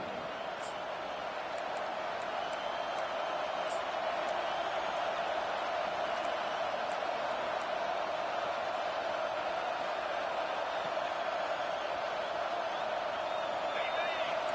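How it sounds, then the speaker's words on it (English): A stadium crowd at a football game roars behind the defense on third down, a dense, unbroken din of voices holding steady throughout. "Decibels rising as the crowd gets behind this defense on third down"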